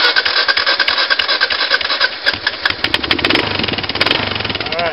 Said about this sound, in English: We just gotta get the bike started and him going.